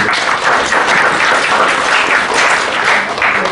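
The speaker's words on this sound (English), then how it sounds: "we should give another round of applause" Sustained applause from a lecture audience after a presentation on Indonesian and Dutch colonial culture, a dense, steady wash of many hands clapping with no pauses, loud and fairly close.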